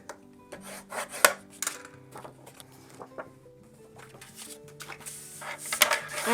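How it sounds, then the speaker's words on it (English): Scored paper being folded and burnished for a 9x7 mini album: close, dry rubbing and scraping strokes in short irregular bursts, growing louder toward the end, with no talk. "Just going to fold and burnish that."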